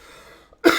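A single sharp cough bursts out abruptly after a near-silent stretch, close and loud, preceded by faint background hum.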